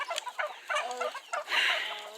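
Turkey toms fighting in a pen make a burst of loud, choppy squawks and gobbling calls in quick irregular bursts, close by and alone.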